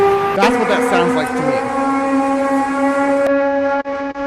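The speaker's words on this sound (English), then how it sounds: "But that's a siren of some kind right there." Sky trumpet sound like a foghorn siren, a steady drawn-out tonal wail with layered harmonics that holds loud for several seconds and then cuts off abruptly.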